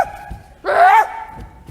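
A dog gives a single sharp, tonal bark with a rising yelp-like edge, fairly loud and close, with no other barking following.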